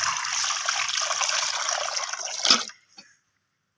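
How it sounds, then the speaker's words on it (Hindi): About a liter of water poured into a wok (kadhai) on the stove for lemon mint sharbat, a steady close splashing gush for over two seconds that cuts off abruptly, followed by quiet. "इसके अंदर 1 लीटर पानी का शामिल करूँगी।"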